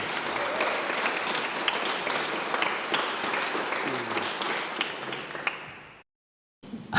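An audience inside Iona Abbey welcomes a performer named Simon with dense, sustained applause filling the stone space for about six seconds, then the clapping cuts off abruptly into silence.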